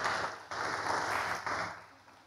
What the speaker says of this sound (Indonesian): Sekali lagi tepuk tangan untuk kita semua dong.